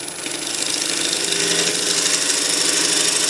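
A wood lathe spins steadily at about 770 RPM, giving a loud, even, broadband whir and hum close by that builds slightly at the start and then holds constant, with no speech.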